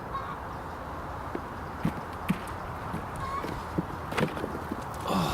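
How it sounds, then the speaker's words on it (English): A hen clucking outdoors after laying an egg, scattered short calls at a moderate distance over a steady background hum, with no one speaking. "That's a chicken just laid an egg."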